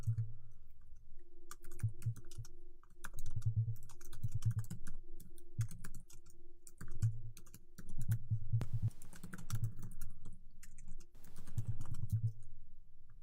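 Typing Markdown text on a computer keyboard, an uneven run of close, crisp key clicks and taps in quick clusters with brief pauses, heard alone without talk.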